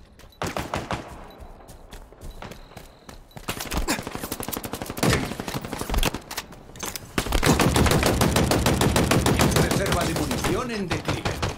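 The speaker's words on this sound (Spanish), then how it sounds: "Me están disparando." Gunfire in Halo Infinite multiplayer, sparse single shots at first, then long rapid automatic bursts that grow louder and denser, close and continuous toward the end.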